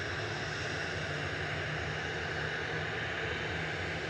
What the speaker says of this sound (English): Ryanair departing to Shannon, flight 4776.